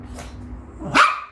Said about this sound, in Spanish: Ladrás con el coso encima